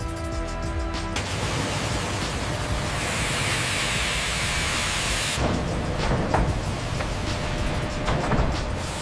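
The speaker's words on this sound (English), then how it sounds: "the logs get washed to remove grit that can weaken glue bonds and scratch veneer" Water spray washes logs at a plywood mill, a loud, continuous broadband hiss that shifts in tone twice with faint mechanical knocks underneath.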